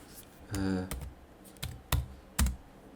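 Keystrokes on a computer keyboard while setting up Typst in Neovim: a handful of separate clicks and a short burst, close and fairly quiet, with no voices.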